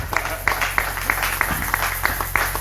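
A church congregation applauding, a short burst of scattered, fairly sparse claps with a low hum underneath.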